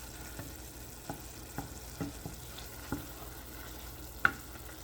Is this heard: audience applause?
no